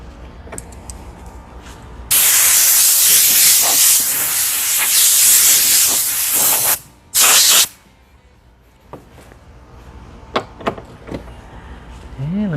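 Air blower blasting loose bits off a freshly worked part, a loud sustained hiss for several seconds, a brief pause, then a second short burst, with quieter workshop clatter before and after.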